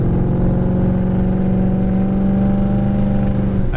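A 1969 Plymouth Roadrunner's V8 rumbles up close in a steady, loud drone, its deep harmonics holding even with a slight rise near the end, no voices over it.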